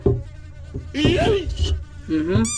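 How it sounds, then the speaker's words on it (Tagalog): A housefly buzzes close by around a pot of paksiw aboard a boat, giving a loud, wavering drone that rises and falls in short bursts, with voices nearby. "Bakit may langaw?"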